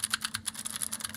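Fingers type quickly on a clicky mechanical keyboard at a programming desk, a dense, close run of sharp, bright key clicks in an uneven rhythm with no talking.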